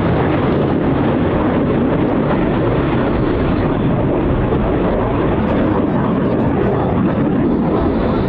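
A Blue Angels jet passes over Pensacola NAS with its landing gear down, a loud, steady, broad roar filling the whole span with no clear rise or fall.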